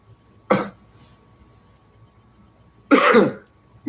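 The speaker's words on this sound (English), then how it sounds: "Yeah, I still got that lingering cough, smoker's cough" Two harsh, raspy smoker's coughs sound up close, separated by a couple of seconds of quiet.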